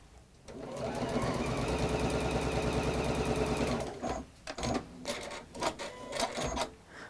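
A domestic sewing machine runs in one steady burst of rapid, even stitching for about three seconds, then gives several short mechanical clicks and whirs, close and clear with no talking.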